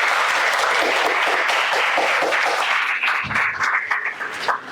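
An audience at a school quiz competition in Senegal applauds to welcome the Lycée de Grand Yoff team, with dense, sustained clapping that thins slightly toward the end.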